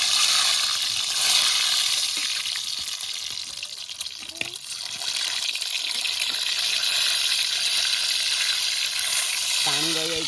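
Eggs frying in a pan at an outdoor children's picnic, a steady broadband sizzle with occasional pops and crackles throughout, fairly loud and close.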